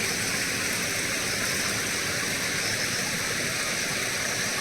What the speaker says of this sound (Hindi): पानी यहाँ पर बहुत तेज़ी से बहाव बहता है।